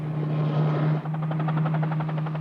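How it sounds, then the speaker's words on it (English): A research ship's helicopter flying about 30 miles south of Belize City over the open sea, its steady rotor drone joined by a rhythmic blade chop that grows clearer partway through, loud and continuous with no talking. "Calypso's helicopter is dispatched."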